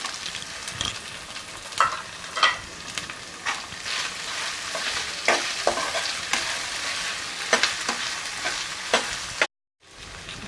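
Paneer cubes and green peas sizzle in a hot pan with oil, stirred in a busy rhythm of scraping and clattering spoon strokes over a constant frying hiss, then a brief silence near the end.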